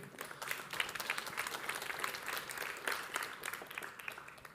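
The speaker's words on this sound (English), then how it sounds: "So I want you to give yourself an applause for being here today" Conference attendees applaud at a tech event on a stage, fairly faint and distant clapping with distinct individual claps in an uneven, fluttering rhythm.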